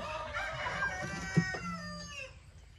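A group of rescued hens clucks and calls close by, overlapping in a busy, uneven chatter with a brief sharper squawk partway through, with no talking.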